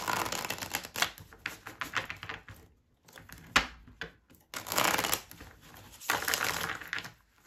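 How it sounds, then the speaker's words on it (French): Tarot cards, a fairy-themed deck, being shuffled by hand in close, rapid riffling bursts with brief pauses between them, crisp and papery, no voices. "Je vais bien mélanger."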